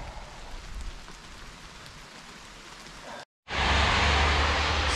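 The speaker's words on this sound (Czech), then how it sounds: "Stále prší." Steady rain falling during a long-distance ride around the Czech Republic, a soft, even patter and hiss that cuts out briefly near the end before returning louder and denser.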